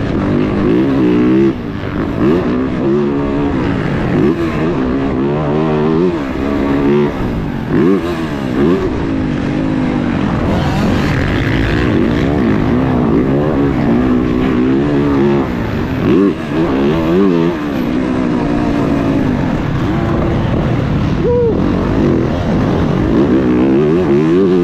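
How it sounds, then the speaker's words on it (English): A 2023 Yamaha YZ450F dirt bike ridden hard, its engine loud and close throughout, revving up and down in repeated rising and falling surges with no talk. "So with that, we'll get back to the first ride at this new 450."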